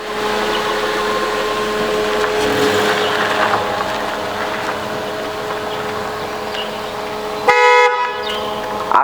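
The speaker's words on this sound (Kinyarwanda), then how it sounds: "akavuza ihoni agaragaza ko yagezeyo" A car horn gives a short, loud honk near the end during a category B driving test at a driving school, heard over a steady engine hum and road noise.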